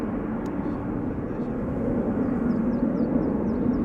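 An Airbus A330 airliner at Amsterdam Schiphol Airport gives off a steady, broad engine roar that holds an even level throughout, with faint chirping high above it.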